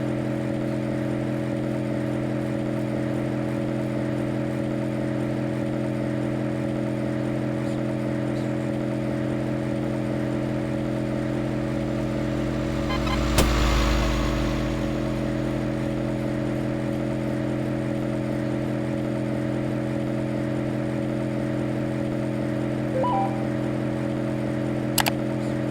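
A car is driven in the horror game Fears to Fathom: Ironbark Lookout, with a steady, droning engine hum that holds at one level throughout, broken by one brief louder whoosh midway and a few faint clicks.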